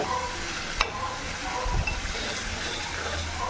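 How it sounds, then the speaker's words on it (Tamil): Chettinad chicken gravy masala sizzles in hot oil while being stirred in a pan, a steady close frying hiss with a brief scrape of the spoon partway through. "அதை அப்படியே எண்ணெயிலே வேகணும் எண்ணெயிலே வெந்து வந்துச்சுன்னா தான் அதனுடைய வாசனை சூப்பராக இருக்கும்"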